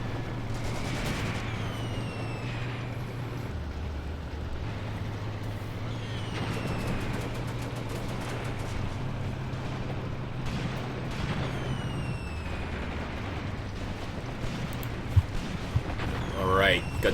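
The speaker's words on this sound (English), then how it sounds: "got some beautiful incoming fire there from our artillery" Artillery fire in the Graviteam Tactics Mius-Front wargame: scattered booms and shell whistles rise and fall over a steady low engine drone, with sharper impacts landing near the end.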